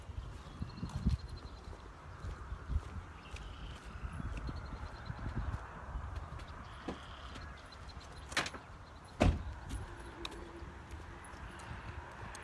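Pickup truck door opening and thudding shut outdoors, with a faint jingle of keys; two sharp slams stand out in the second half against steady outdoor background noise, with no talking.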